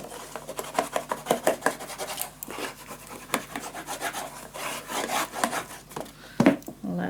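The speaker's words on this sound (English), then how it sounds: "Let's burnish this one as well." Paper being burnished down onto a scrapbook storage tower, a series of quick dry rubbing and rasping strokes in uneven bursts, close and fairly soft, with a sharper scrape near the end.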